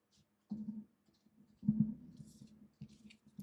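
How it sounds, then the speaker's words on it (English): Oracle cards are picked up and handled up close, giving a few soft taps, shuffles and rustles in short bursts with quiet pauses between them. "I gotta grab your oracle cards here"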